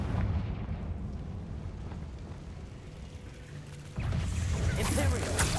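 A Confringo blasting spell explodes in the Hogwarts Legacy video game, a loud rumbling burst that swells again near the end over a dense low roar.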